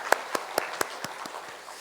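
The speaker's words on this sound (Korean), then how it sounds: "하나님 앞에 영광의 박수 올려드리겠습니다" A church congregation at a Sunday service gives a few rhythmic claps, about eight evenly spaced sharp hand claps, fading slightly toward the end.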